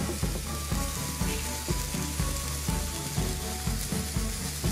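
Broccoli and cauliflower pancakes fry in oil with a dense, close sizzle. Regular soft knocks sound underneath, about twice a second, throughout.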